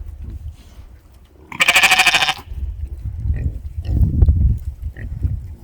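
Sheep on a village farm bleat in a loud burst of a few seconds, then fainter calls and scuffling livestock movement follow nearby.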